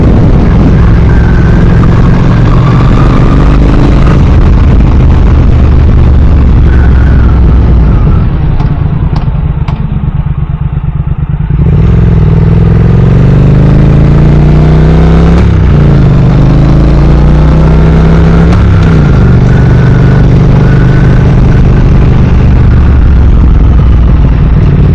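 A Triumph Thruxton R motorcycle engine on twisty back roads, a steady loud rumble from start to finish, easing to a brief lower drone mid-ride before revs climb and fall again with throttle changes.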